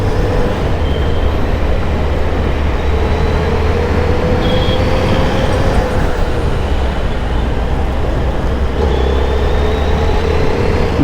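A Suzuki Hayabusa motorcycle cruises along an open road, its steady engine drone mixed with a constant rush of wind that stays loud and unbroken throughout.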